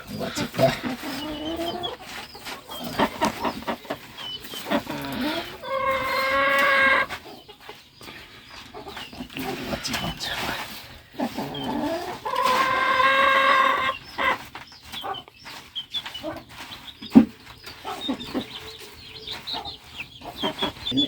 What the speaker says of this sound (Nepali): कुखुराले